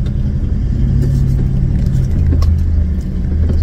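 Low engine rumble of a Toyota 76 series LandCruiser in first gear, low range, crawling down a rocky 4WD track, steady and close with a slight rise in pitch partway through.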